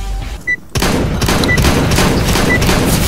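Gunfire and explosions in Counter-Strike: Global Offensive, with a burst of shots followed by a dense, roaring rumble of fire and blasts that carries on steadily through the rest of the moment.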